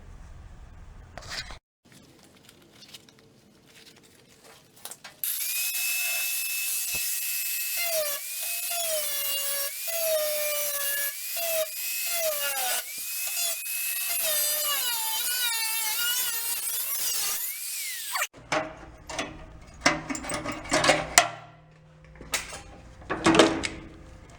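A power tool whines steadily and loudly through thin sheet metal as homemade repair panels for a rusty old Ford E100 pickup are cut, pitch wavering as it bites, bracketed by quieter clatter and handling before and after.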